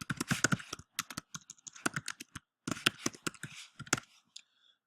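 Quick bursts of keystrokes on a computer keyboard as a workspace name is entered in Photoshop, crisp close clicks in uneven clusters with short pauses between, no voices.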